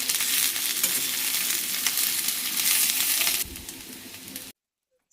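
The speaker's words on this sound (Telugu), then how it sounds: "సో, మనం కాకరకాయ ముక్కల్ని గోల్డెన్ కలర్ వచ్చినంత వరకు వేయించుకోవాలి." Bitter gourd pieces shallow fry in oil until golden, a steady close crackling sizzle with stirring that quietens partway through and then cuts to silence near the end.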